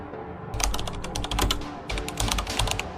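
Rapid typing on a computer keyboard, bursts of close, crisp key clicks with brief pauses, no voices.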